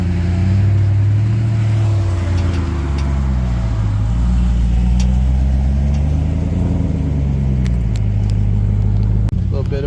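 Jeep Gladiator crawling the Rubicon Trail in El Dorado National Forest west of Lake Tahoe, heard from inside the cab as a steady low engine drone that rises and falls in pitch with throttle, with voices talking over it.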